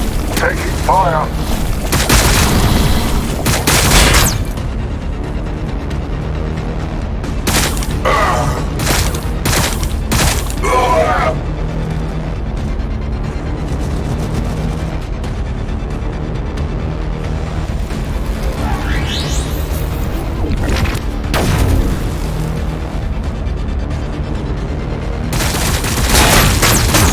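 Gunfire and explosions from the Warhammer 40k: Battlesector strategy game, with Blood Angels forces in battle: a dense, steady din of booms and volleys, with sharper blasts breaking through at intervals and game voice lines heard over the fighting.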